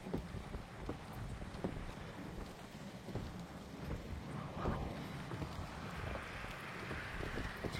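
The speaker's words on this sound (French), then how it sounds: "Oula, rafale de vent." Gust of wind during a storm under an arcus cloud near Lyon, a faint broad rushing roar swelling toward the end over scattered low rumbles and crackles, with no talk.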